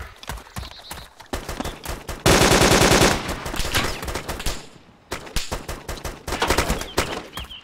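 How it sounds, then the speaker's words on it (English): Enemy machine guns rattle in ARMA II combat, with bursts of rapid shots at varying distances. A dense sustained volley is followed by more scattered bursts, loud and close at times. "Enemy machine gun."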